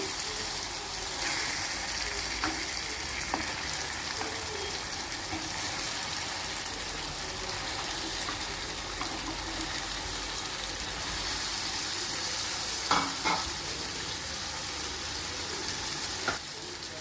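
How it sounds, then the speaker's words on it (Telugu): Washed chicken dropped into a pan of fried tomato masala, setting off a continuous close sizzle with a few brief knocks and clatters near the end, no talking. "ఇప్పుడు ముందుగా కడిగి ఉంచుకున్న చికెన్ వేస్తున్నాను"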